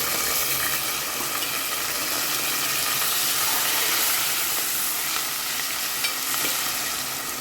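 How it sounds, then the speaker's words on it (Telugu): Onions and green chillies frying in hot oil with spices for chicken pulao, giving a steady, close sizzle with faint stirring scrapes throughout and no talk. "ఇప్పుడు ఉల్లిపాయ, పచ్చిమిరపకాయలు వేస్తున్నాను."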